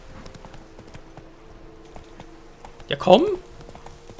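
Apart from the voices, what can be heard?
horse hooves galloping in The Witcher 3 video game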